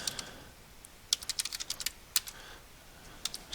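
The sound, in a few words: typing words on a computer keyboard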